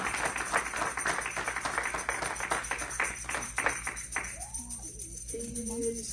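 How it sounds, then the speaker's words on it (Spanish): Congregation clapping hands in praise at a church service, a dense, steady run of claps for about four seconds that thins out and stops, after which a voice and faint tones are heard. "Denle una alabanza de palmas al Señor."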